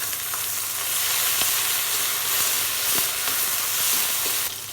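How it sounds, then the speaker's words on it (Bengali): Shrimp, onion, garlic, green chilli and whole cumin fry in hot oil, giving a loud, continuous close sizzle with faint stirring clicks, alone without voices. "দিয়ে দেবো পেঁয়াজ, রসুন, কাঁচামরিচ, চিংড়ি মাছ দিয়ে দেবো তেলের উপরে।"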